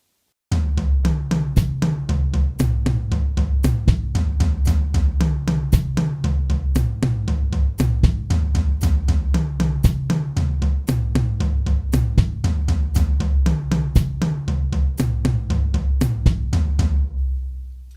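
A drum kit plays a rapid sticking pattern of even hand strokes, with the bass drum replacing the right hand on beat 2 and on the 'e' of beat 4, looping steadily and loud for about seventeen seconds.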